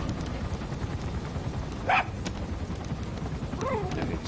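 A dog in Metal Gear Solid V barks twice, short sharp yelps spaced a couple of seconds apart over a steady hiss of game ambience.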